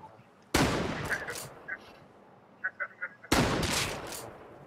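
Gunfire in the console edition of the survival game Rust: two loud, sustained bursts, each about a second long, separated by a gap with a few short, sharp shots.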